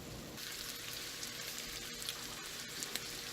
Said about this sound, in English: I'm going to put the lid on this for about 8 minutes so the cauliflower can cook through